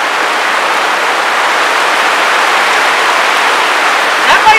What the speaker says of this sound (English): That might be the hardest rain that you and I have ever experienced together before.